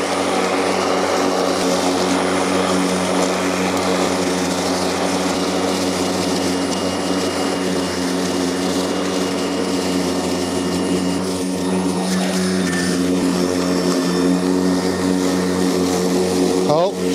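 EGO battery-powered commercial lawn mower running in turbo mode through rough grass, a loud continuous whirring drone with a steady pitch that stays close throughout, with a voice speaking over it.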